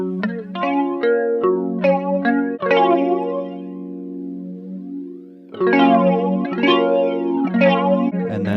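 Negative-feedback flanger on a short delay line giving a hollow, odd-harmonic tone to a synth or instrument, sustained chords with sweeping comb-filtered shimmer, a quieter held passage midway, then renewed louder attacks.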